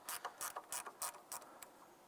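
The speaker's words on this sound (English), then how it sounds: "And go ahead and use our 10mm gear wrench." A 10mm gear wrench ratchets in several quick, close clicking bursts with short pauses, working during radiator removal on a 2011-2017 Honda Odyssey, with the clicks growing sparser and fainter toward the end.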